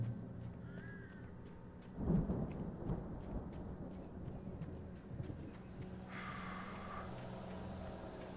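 A thunderstorm rumbles in the Alan Wake video game: a deep thunder roll swells midway over a constant wash of rain, with a brief bright hiss near the end.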